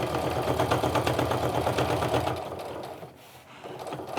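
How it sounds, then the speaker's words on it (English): A sewing machine hums and chatters steadily as it stitches a wristlet seam, close and fairly loud, easing briefly near the end before picking up again. "I'm just stitching along"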